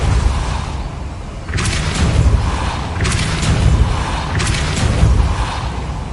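A Depulso force spell is cast repeatedly in the Hogwarts Legacy game: three bursts of magic, each a bright whooshing crackle over a deep booming thump, spaced about every one and a half seconds over low ambient rumble.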